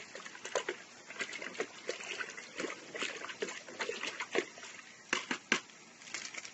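Water in a container is stirred after fungal spores for plants are mixed in, giving soft sloshing and trickling swirls that continue steadily, moderately close, with no talk over it.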